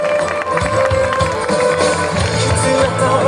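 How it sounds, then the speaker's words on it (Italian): Audience applause at a 2015 cosplay contest, a dense steady patter of many hands clapping throughout, loud and continuous with some crowd noise mixed in. "Un applauso."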